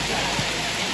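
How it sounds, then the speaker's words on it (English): Rain pours down steadily at a beach in Quepos, Costa Rica, a dense and continuous hiss with no clear breaks. "It's beautiful, but then it started to rain."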